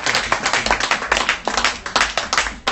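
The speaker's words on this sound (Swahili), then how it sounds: "Hebu tupigie Bwana makofi" A church congregation at a Bible study claps hands for the Lord, crisp, close claps in an irregular, lively rhythm with distinct individual slaps and small bursts, loud and alone without talk.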